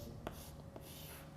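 A number being written on a board, heard as a few soft, quiet marking strokes spaced apart against a faint room background.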